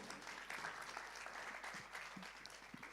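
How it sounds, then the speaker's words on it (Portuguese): Congregation in a church service applauding steadily for several seconds, a dense, moderately distant wash of many hands clapping with no talk. "Você pode aplaudir o Senhor,"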